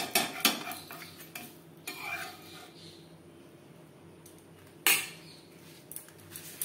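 Appam is lifted from a pan into a bowl with sharp metal scrapes and clinks of utensil on cookware, a few loud strikes near the start and again later, over a faint background hiss.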